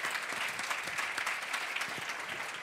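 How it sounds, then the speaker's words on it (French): A conference audience applauds Philippe Legrand for his portrait at an HR congress, steady dense clapping from many hands held at a fairly faint, distant level with no voices. "Je vous demande d'applaudir Philippe Legrand pour ce portrait."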